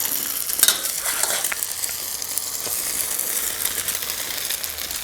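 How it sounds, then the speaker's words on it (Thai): Cha-om (acacia leaf) omelette frying in a pan, a steady bright sizzle of hot oil with occasional spatula scrapes and small crackles, close and continuous with no talking. "ทอดไปเลยนะครับ"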